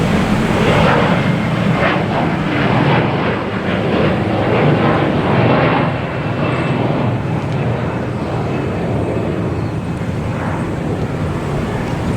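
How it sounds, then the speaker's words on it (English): A Delta airliner taking off at Boston Logan Airport gives a loud, steady jet-engine roar, close and sustained throughout, with a broad rumbling wash and no talking. "Let me get this Delta takeoff here"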